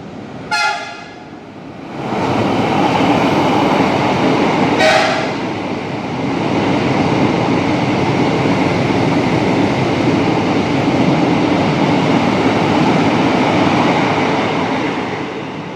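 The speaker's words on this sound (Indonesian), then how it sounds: "Kita tunggu dulu keretanya biar sampai" A passenger train rumbles steadily along the tracks for a long stretch as it arrives at Gambir station in Jakarta, loud and close, with two short horn toots near the start.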